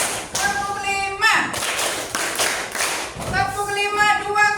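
A teacher leading a classroom clapping routine, counting claps from one to five: a few sharp claps stand out between stretches of spoken counting.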